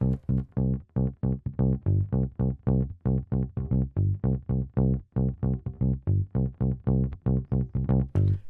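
A one-bar Motown bass groove loops over and over as a steady run of short, punchy plucked notes with a driving, syncopated feel. It is close and prominent throughout, with no voices.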